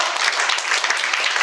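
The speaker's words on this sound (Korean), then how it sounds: "박수 한번 올립시다." A ceremony audience claps briefly, a dense steady patter of many hands at moderate loudness with no voices.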